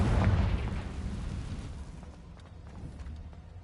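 A Confringo blasting spell from Hogwarts Legacy explodes with a heavy, booming burst up front that rumbles and fades away over a few seconds, with no talking.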